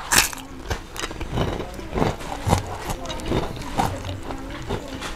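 Crunchy kerupuk rambak crackers bitten and chewed at a roadside mie nyemek stall, giving a string of brittle, crackling crunches close to the mic over a busy background.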